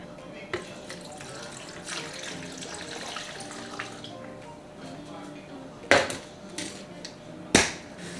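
Chicken broth, about two cups, pours into an enchilada sauce in a home kitchen, a steady liquid splash with a few sharp clanks of pots and utensils near the end.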